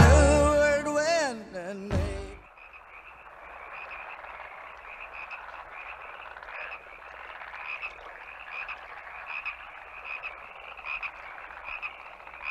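A chorus of frogs croaking steadily in pulsing, overlapping calls, moderately loud, following a brief burst of other sound at the start.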